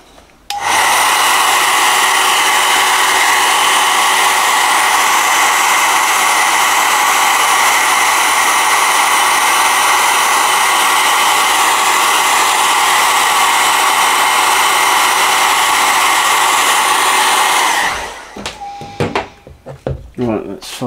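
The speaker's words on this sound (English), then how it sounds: "Now what I'm going to do is just quickly go over this with the hairdryer." Hairdryer blowing over fresh paint on a painting in progress, a loud steady whir running unbroken for about seventeen seconds before cutting off into faint handling sounds.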